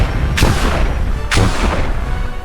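Two loud blaster shots crack out in Star Wars: The Old Republic, each a sharp burst fading over a steady rumbling background, about a second apart.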